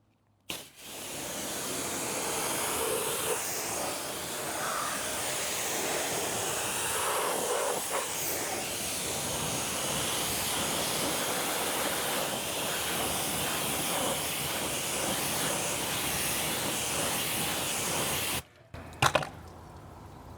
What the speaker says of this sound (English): So let's try rinsing this off.